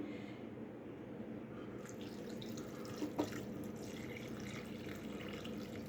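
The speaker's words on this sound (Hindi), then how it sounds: "अब हम यहाँ पे इसे पानी डालेंगे।" Water poured into a pan of frying potato curry for a hotel-style aloo sabzi, a steady, moderately quiet running-liquid wash with a couple of brief splashy drips midway.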